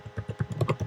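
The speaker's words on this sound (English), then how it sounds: "you're going to also just type the word" Fast typing on a computer keyboard: a quick, close burst of about eight crisp key clacks in an uneven rhythm, with no voices.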